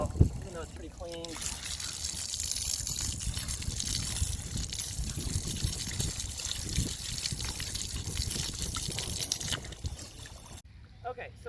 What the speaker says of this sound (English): this is just the filter. I'm gonna rinse that out, even though it's pretty clean.